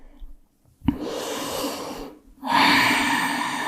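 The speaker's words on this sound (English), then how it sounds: "And breathe. 3 nice restorative breaths here." Slow, deep restorative breaths during a yoga session, a close, audible inhale and a long exhale with a soft airy rush, the second breath louder than the first.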